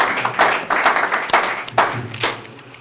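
A church congregation clapping loudly and rhythmically together, strong bursts of hand claps in steady waves that fade slightly at the end, with no voices over them.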